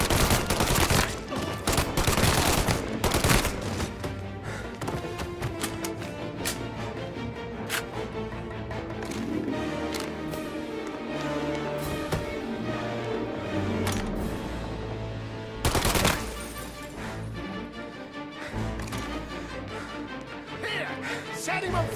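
Heavy sustained gunfire in a Mafia: Definitive Edition firefight, with loud overlapping bursts early and midway over a constant noisy battle backdrop, with shouting voices mixed in.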